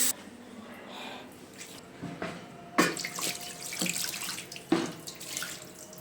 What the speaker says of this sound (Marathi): नळांना पाणी पण आता पहिल्यासारखं फास्ट येत नाही